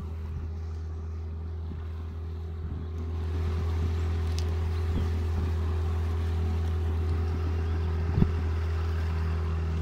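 A motorboat with a Toshiba outboard engine runs on flood water, a steady low drone with a constant hum that grows slightly louder after a few seconds, with some wind noise and a brief knock near the end.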